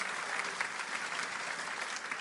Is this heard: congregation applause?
yes